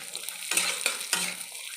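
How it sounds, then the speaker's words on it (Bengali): Raisins frying in hot ghee give a soft sizzle, broken by a few sharp scrapes and clinks of a spoon stirring against the pan, close and fairly quiet with no talk. "ওগুলো ভালো করে ভাজা হয়ে গেছে ফুটে উঠেছে এবার আমি কিচমিচটা দিয়ে দিলাম"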